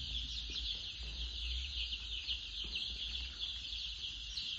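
Broiler chickens in a poultry shed, a dense, constant chorus of chirping and peeping from many birds, steady and moderately faint over a low hum.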